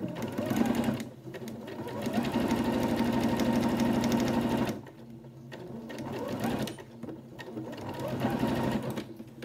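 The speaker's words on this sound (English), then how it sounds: "again, sew it right down the middle." A sewing machine stitches straight down the middle of a folded fabric face mask, a close, steady whirring run that pauses and then resumes.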